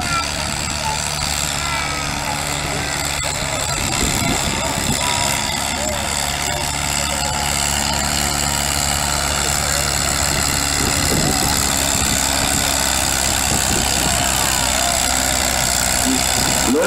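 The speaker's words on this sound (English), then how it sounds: "This old tractor's been around for a long time." An old antique tractor engine idles and rumbles steadily at a tractor pull, a loud continuous drone with a public-address announcer talking over it.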